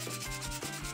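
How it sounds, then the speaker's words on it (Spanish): Sandpaper rubs back and forth over a Kenmore washing machine timer part, giving steady close scratchy strokes in a regular rhythm with no voices. "Vamos a lijar por aquí, vamos a lijar por acá también."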